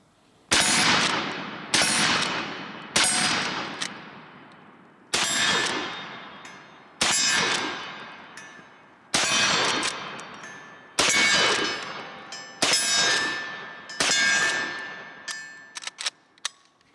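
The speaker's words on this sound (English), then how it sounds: "Not used to shooting a lever action from the kneeling position, huh?" A Henry Big Boy color case hardened .44 Magnum lever action rifle fires about nine loud shots at steel targets, spaced a second or two apart. Each sharp crack rings out with a metallic clang that fades before the next shot.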